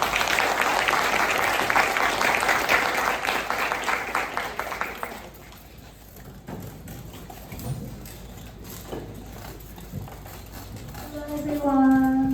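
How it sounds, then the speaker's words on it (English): An audience claps to welcome a professor to the stage at a lecture on Christian ethics and AI: dense, lively applause for about five seconds, then a quiet room with small shuffles and a voice beginning to speak. "Please clap your hands to welcome Professor Yoon."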